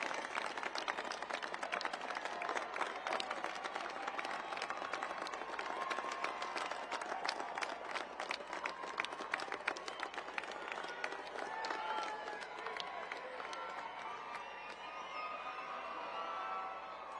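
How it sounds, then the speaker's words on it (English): A large crowd of Air Force Academy graduates at a commencement ceremony claps for their families in a dense, sustained wave of applause that slowly fades toward the end, with faint voices mixed in. "Stand up and give them a round of applause."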